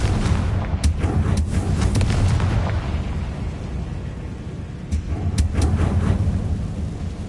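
A Confringo blasting curse from a Harry Potter game sets off several deep, booming explosions in quick bursts, each followed by a rumbling rolling tail.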